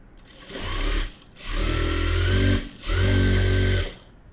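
Sewing machine stitching along the edge of a single lining piece, running in three loud continuous bursts with short pauses between them, close and alone.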